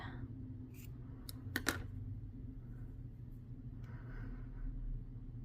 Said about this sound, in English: I'm going to cut this tail off.